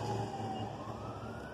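A fire chief's vehicle siren wails at a distance in Buffalo, steady and fairly faint over a low background rumble.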